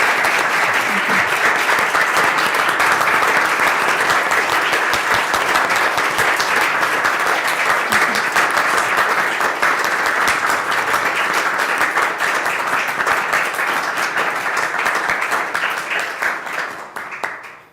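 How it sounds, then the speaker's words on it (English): Sustained audience applause for a professor and discussion panelists at a Swiss event on the circular economy: dense, loud clapping from a full room that holds steady for a long stretch before tapering off at the end. "give a big round of applause to Professor Keller and our panelists today"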